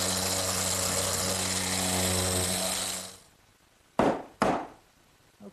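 A power sander works wood for a Mission-style sofa. It gives a steady, loud motor hum that winds down and stops, then two sharp knocks follow in the quiet.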